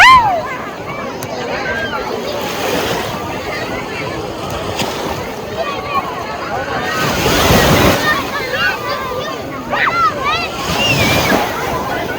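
Waves crashing and washing onto a beach in Qatar amid gusty wind noise, with surges building and breaking every few seconds.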